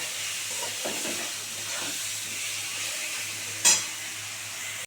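Onions sizzle steadily in a hot pan for a fish curry (aar fish rasha), with occasional scraping stirs and a brief clank of a utensil, no voices.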